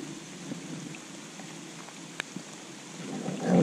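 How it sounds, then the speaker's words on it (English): Steady rain falls outdoors during a bass fishing trip, a continuous hiss of drops with a few sharp taps and a swelling rumble at the end, with no one speaking. "it's raining"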